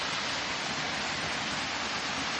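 A waterfall roars in a steady, dense rush of running water, close and constant throughout, with no voices.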